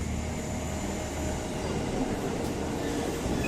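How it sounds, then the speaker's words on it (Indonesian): A fast train on a busy line, referred to as the JR 203, gives a loud, steady rumbling roar with rattling carriage noise heard from inside the moving car. "kereta kita sangat cepat sekali, mantap"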